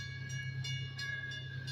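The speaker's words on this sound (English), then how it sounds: "we got this little train, this little tourist train that comes through here" A small tourist train passes at a distance, a steady low rumble with a sustained horn-like tone and faint intermittent clanks, heard alone at moderate volume.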